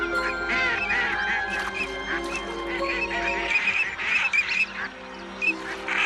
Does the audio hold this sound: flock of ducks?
yes